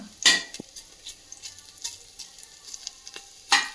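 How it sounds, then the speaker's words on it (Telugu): Ginger pieces sizzle in hot ghee while pongal is cooked, with a quiet steady fry broken by a few sharp clinks of a utensil against the pan. "అల్లం ముక్కలు నేతిలో వేగితే వల్ల మంచిదండి"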